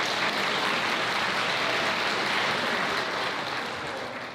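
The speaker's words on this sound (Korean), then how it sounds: "두 사람을 축복의 박수로 맞이해주시기 바랍니다" Steady, dense applause from wedding guests, sustained throughout and tapering slightly at the end, with no voices over it.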